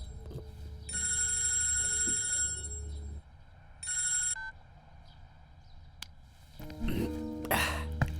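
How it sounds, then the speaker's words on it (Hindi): A telephone rings twice in a room, each ring a bright electronic burst lasting a few seconds, the first longer, followed by shuffling movement at the end. "किसका फोन है?"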